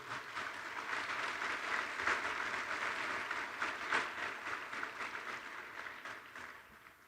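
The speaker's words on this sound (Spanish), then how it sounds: "De verdad, un aplauso para usted." Steady applause from an audience at a construction-sector event, a dense, moderately distant patter of many hands that holds for several seconds before tapering off.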